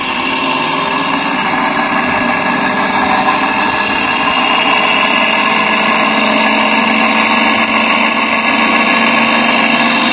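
A motor-driven free-energy generator runs at idle, giving a loud, steady mechanical hum and whine that holds constant throughout with no talking.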